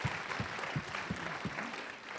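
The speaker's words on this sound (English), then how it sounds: "Yeah, big round of applause for that." A crowd at a live social venture partners event applauding, a soft, even patter of clapping with a low rhythmic thump every third of a second underneath, fairly distant.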